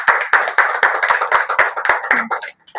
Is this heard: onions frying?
no